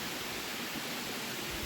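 Water pouring down a waterfall on a slope at Kiribathgala, a steady broadband rush with no break, near and loud, with no voices over it.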